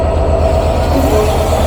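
A 66-class diesel locomotive shunting at Poradah junction gives a steady low rumbling engine throb with a regular pulsing rhythm, close by and loud, with faint metallic rail tones over it and no voices.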